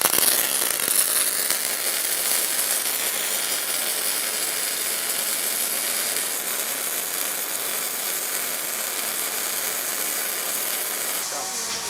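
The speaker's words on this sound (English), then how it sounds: "Next thing we're going to do is going to weld up these seams here" Seams on a steel winch bumper being welded, a loud continuous hissing, crackling buzz that runs steadily and close throughout, with a brief change in tone right at the end.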